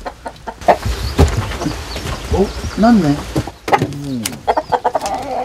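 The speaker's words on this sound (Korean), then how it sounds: "제일 먼저 찾은 곳 닭장입니다" Chickens cluck and squawk close by in short bursts inside a coop in the early morning, with a person speaking briefly and some rustling in the background.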